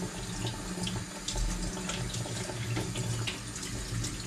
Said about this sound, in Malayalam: നന്നായി കഴുകുക. കഴുകുക മീൻസ് വാഷിംഗ്.